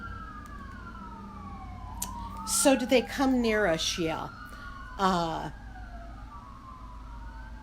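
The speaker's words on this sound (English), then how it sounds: "Sorry about the sirens in the background there." Fire truck sirens wail in the background, rising and falling tones sweeping continuously while a person talks over them close by.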